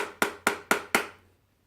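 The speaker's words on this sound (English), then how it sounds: "just by lightly tapping it with a hammer, you should be able to loosen it" A hammer lightly tapping a Stratocaster guitar nut to loosen it: four evenly spaced, sharp taps, close and fairly loud, each ringing briefly before silence.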